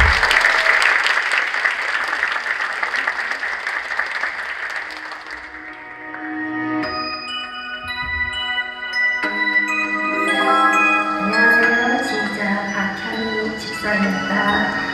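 Applause from the audience greets an eleven-member church choir at a multicultural choir contest, loud clapping over the first six seconds. It fades as a piano accompaniment begins with sustained tones that build underneath.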